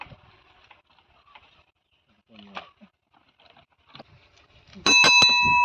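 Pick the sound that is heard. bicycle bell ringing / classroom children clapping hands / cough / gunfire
bicycle bell ringing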